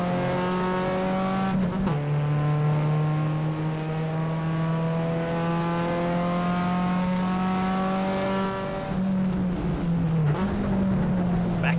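Torana XU-1 race car engine at Wanneroo in 1972-style racing, a loud, close, steady high-revving drone held through a gear, with brief gear-change dips and rev shifts around the second and tenth seconds.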